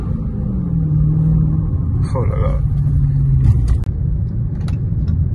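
Dodge Charger SRT Hellcat engine rumbling steadily while driving, a deep continuous drone inside the car with a brief rising rev, while a man exclaims over it.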